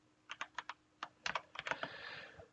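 Crisp, close computer keyboard typing while writing C++ code on Linux, a quick run of distinct keystrokes in irregular groups, then a longer burst and a short smeared rustle at the end, no talking.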